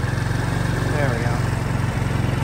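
A scooter engine running in cold weather, a steady close mechanical drone with a rhythmic low putter that rises slightly in a rev and settles back toward idle.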